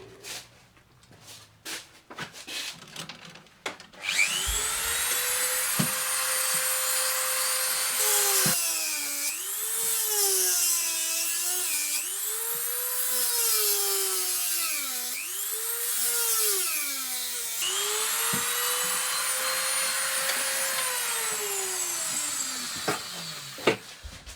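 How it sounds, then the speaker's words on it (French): A drill bores holes into a part, its steady high whine dipping and rising in pitch as the bit bites and clears, running nearly continuously after a few light taps and handling noises, up close with no talk. "Je vais percer un trou là et là."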